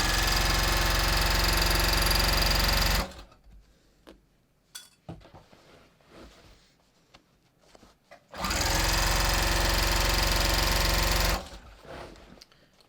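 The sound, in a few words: sewing machine stitching a jeans godet seam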